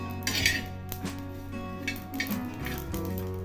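Whole spices, green cardamom and torn bay leaves, are stirred in a pan for olive chutney, with scraping and light clinks of a utensil against metal over a steady background hum.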